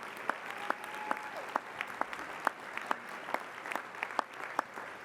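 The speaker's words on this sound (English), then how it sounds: "big round of applause" A small audience at a Catholic bishops' panel in Washington State gives a round of applause, heard as scattered, distinct claps at a moderate distance.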